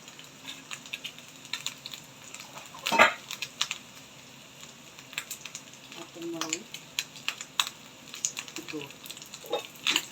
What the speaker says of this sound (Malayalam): മൂത്തിട്ട് താളിച്ചത് ഇതിലോട്ട് ഇട്ട് കൊടുക്കുകയാണ്